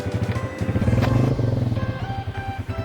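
A motorcycle goes by close up, its engine loud and throbbing with a steady pulsing rhythm and some clatter, rising and then easing off.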